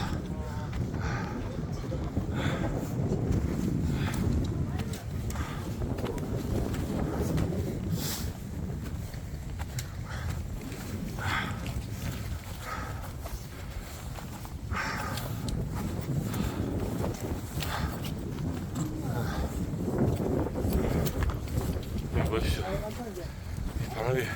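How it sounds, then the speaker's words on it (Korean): Strong wind roars steadily across snowy Taebaeksan mountain during a January blizzard hike, a loud, continuous rushing gust that buffets the microphone for the whole stretch with no letup. "지금 바람이 엄청나게 불고 있습니다."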